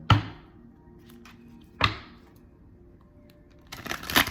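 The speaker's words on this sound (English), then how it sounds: "We'll give it one more because that was a super weak shuffle." Tarot cards shuffled up close: two sharp card slaps a couple of seconds apart, then a short fluttering riffle at the end, with quiet pauses between.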